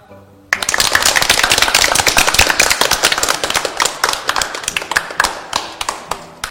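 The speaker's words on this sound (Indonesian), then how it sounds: "Betul sekali, semuanya tepuk tangan." A group of audience members claps at a quiz segment of a children's stage show, a burst of dense, sharp, uneven hand claps that starts abruptly and thins toward the end, close and loud with no talk.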